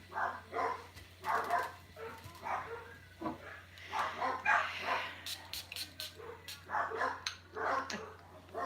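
Repeated yappy barking from a small dog somewhere outside, a steady run of short barks, distant and muted, with occasional sharper clicks mixed in.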